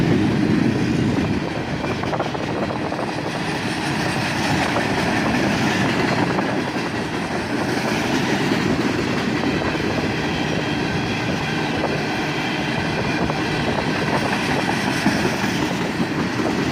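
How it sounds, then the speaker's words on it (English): Freight train trailing a cut of empty steel slab cars rolls past on the Toledo Sub, a continuous loud rumble with rhythmic wheel clatter and faint flange squeal throughout. "the end of the train is a cut of empty steel slab cars, a very common sight here on the Toledo Sub"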